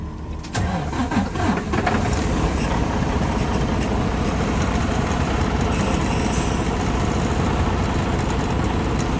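A Detroit Diesel DD15 truck engine with bad compression and white smoke turns over and settles into a rough, shaking idle, a loud continuous rumble that holds steady close by with no talk.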